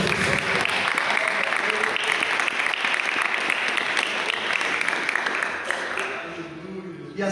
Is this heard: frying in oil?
no